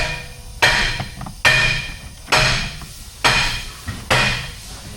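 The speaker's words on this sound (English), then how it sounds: "It's the hammering." Five loud, evenly spaced metal hammer strikes ring out one after another in a workshop, each a sharp bang with a ringing decay before the next.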